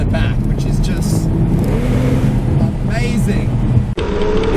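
The 3.6-litre twin-turbo flat-six of a Porsche 911 Turbo Cabriolet revs hard and loud, a steady sustained roar with a brief dip near the end, heard from inside the moving car.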